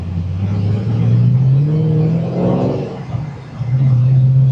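A Rotrex-supercharged fifth-generation car engine runs steadily up close, its deep hum lifting in pitch as it revs, then easing and rising again, with a brief murmur of voice in the middle.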